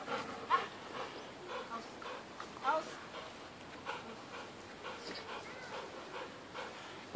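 A dog whimpers and pants softly in a quiet room, with faint intermittent breathy sounds and small whines over low background noise; no one speaks during the moment.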